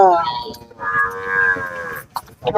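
Cattle moo at the Kannapuram temple chariot festival in 2024: one loud, drawn-out low moo near by, then shorter calls amid faint crowd voices.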